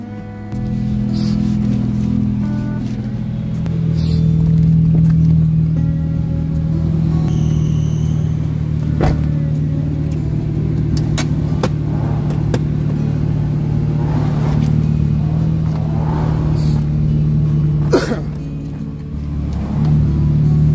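A red Honda Jazz engine runs steadily at idle, a continuous low rumble with mild swells as if lightly revved, heard close and alone without talk.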